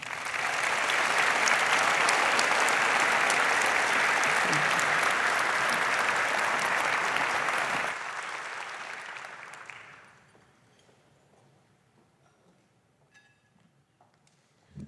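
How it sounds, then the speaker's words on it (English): A crowd applauds at a city's State of the City address, loud dense clapping for about eight seconds that thins out and dies away to near quiet, leaving a few scattered claps and faint room noise. "One more round of applause for Mayor Winter"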